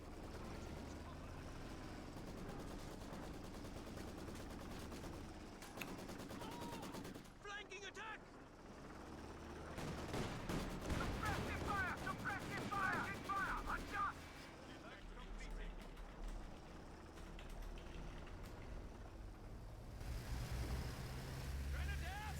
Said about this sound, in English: MG, does it have the target? Yes, it does. Look at that cone of fire.